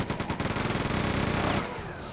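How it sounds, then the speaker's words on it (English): A minigun in Quake 2 fires a rapid, evenly spaced stream of shots at close range for about a second and a half, then spins down into a fading whir. "I'm going to use our little minigun."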